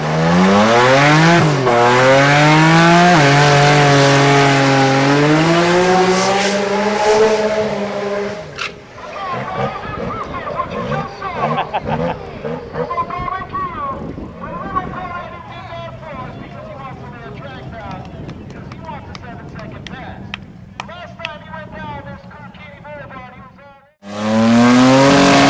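A race car on a shakedown pass, starting with a loud, close engine climbing through revs in rising sweeps, then fading to a more distant, busier mix of engine and other noise, with a brief loud burst at the end.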